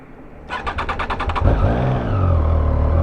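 A Triumph Trident 660 motorcycle engine cranks with a quick rhythmic starter whir, catches and fires, then settles into a steady, loud warming idle close by.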